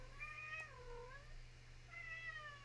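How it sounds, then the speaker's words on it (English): A house cat meows twice in a room, two drawn-out rising-and-falling calls separated by a short pause, fairly close but soft, over a steady low hum with no talking. "I got my cat in here meowing at me."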